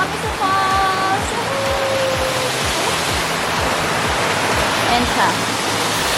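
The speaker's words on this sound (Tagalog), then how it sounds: "Dito na kami sa falls." A waterfall reached on a hike to a rock formation roars as steady, broadband rushing water throughout, with brief talk and faint whistling tones over it.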